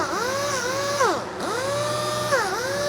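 A DA sander smooths rough spots on a wooden guitar neck after CNC machining, giving a steady, close, loud motor whine whose pitch dips twice as the pad bears down.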